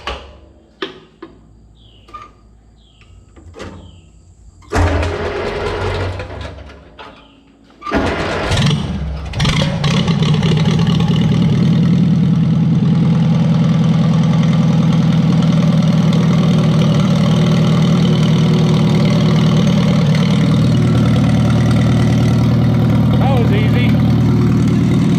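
A 1948 Farmall C tractor, out of gas until refuelled, cranks with a few clunks and a rough catch, then settles into a loud, steady idle that runs alone for most of the time, with faint talk early on.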